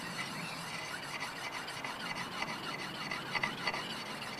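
An axe blade is sharpened on a coarse diamond whetstone, giving steady close rasping strokes with a gritty scrape and brief squeals, heard alone.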